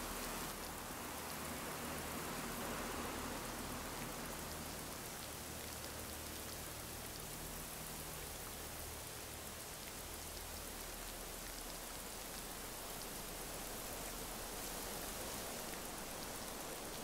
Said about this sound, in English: Wow, this rain's getting heavier.